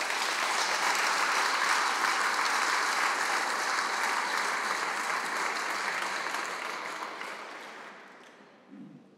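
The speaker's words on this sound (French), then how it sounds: "je crois que vous pouvez les applaudir chaleureusement" Warm applause from an audience at the inauguration of an aircraft exhibit at an aeronautics museum, a steady dense clapping that gradually fades away toward the end.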